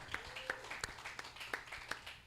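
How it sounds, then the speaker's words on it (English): A small live game show audience claps for the players, a few sparse, distinct hand claps landing in a loose, uneven rhythm over a quiet room. "Give it up for all our players, right? Clap it up for them."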